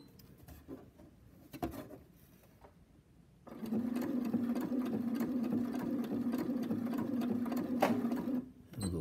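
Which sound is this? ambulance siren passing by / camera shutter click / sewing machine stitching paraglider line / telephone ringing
sewing machine stitching paraglider line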